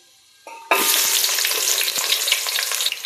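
Sliced onion, green chili and garlic paste hit hot oil with whole spices and start frying with a sudden loud sizzle. The sizzle stays steady and close, with a few stirring scrapes, and no voices.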